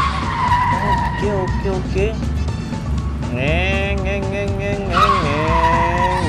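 A Hot Wheels car skids and squeals its tires in Stumble Guys, several sliding screeches with revving engine tones rising and falling while a person talks over the racing.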